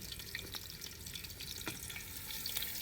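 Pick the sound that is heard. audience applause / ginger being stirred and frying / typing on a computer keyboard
ginger being stirred and frying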